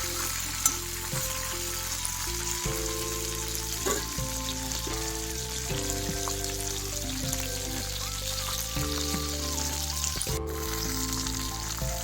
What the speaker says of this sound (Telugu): పచ్చిమిర్చి ఇలాగా ఇలా వేగాలి